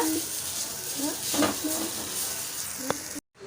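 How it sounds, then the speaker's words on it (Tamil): Grated coconut sautéing in a kadai over medium flame gives a steady, close hiss, with a few soft scrapes of stirring and one sharp clink near the end before the sound cuts off abruptly. "தேங்காயை வந்து நம்ம நல்லா வதக்கிக்க போகிறோம்"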